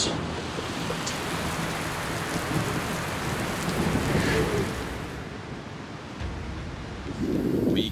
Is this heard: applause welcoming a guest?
no